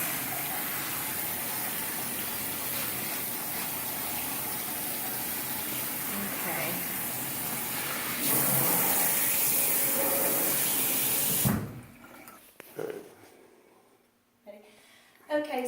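Running water rinses a perm through a perm rinsing cap, a steady close gush under occasional talk that swells briefly and then cuts off, followed by a few quieter handling sounds.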